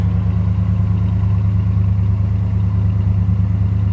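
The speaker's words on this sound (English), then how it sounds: "About the way you'd expect an 81 Z28 to sound." A 1981 Chevrolet Camaro Z28's V8 engine idles steadily with a deep, loping rumble and faint mechanical clatter, close and loud, with no voices.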